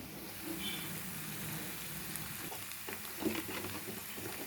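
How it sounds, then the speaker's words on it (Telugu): Garlic fries in hot oil in a pan for a brinjal dish, giving a steady, soft crackling sizzle with faint stirring scrapes throughout, low in level and with no one talking. "వెల్లుల్లిపాయ వేగుతున్నాయి కదా"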